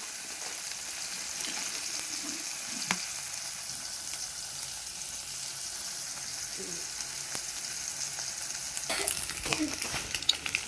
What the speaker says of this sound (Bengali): এবার এতে ডিম ফাটিয়ে দেবো।